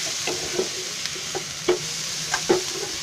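A spoon stirs a mixed vegetable bhaji in a pan over a low, steady sizzle, tapping and scraping against the metal a handful of times at an irregular pace, close by and with no talking.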